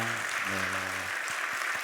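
Church congregation applauding during a Sunday service appointment ceremony, a broad steady wash of clapping running throughout, with a low sustained tone and some speech underneath before it fades toward the end.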